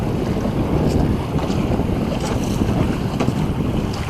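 Water sloshing and splashing against a small engineless sailing boat during a tack, with steady wind rumble buffeting the microphone throughout.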